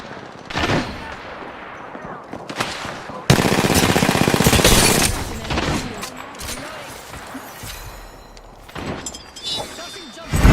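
Automatic gunfire rattles in the battle royale shooter Apex Legends, loud sustained bursts with scattered single shots and impacts, while players talk over the action.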